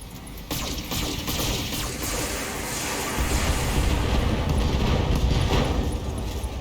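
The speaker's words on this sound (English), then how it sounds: "an AC-2 ammo explosion" Explosion of AC-2 autocannon ammunition inside a mech in the BattleTech video game, a dense, continuous rumbling blast that swells louder partway through and roars on to the end with no talk.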